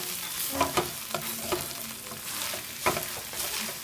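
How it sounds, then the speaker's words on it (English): A roux of flour and grease is stirred in a frying pan, with a spoon scraping and tapping against the pan over a constant sizzle, close and steady. "It's starting to stick to the pan, so you really got to stir at this point."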